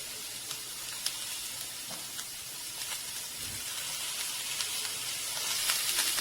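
Finely chopped onions sizzling in a pan, a faint, even hiss with light scattered crackles throughout, no voices.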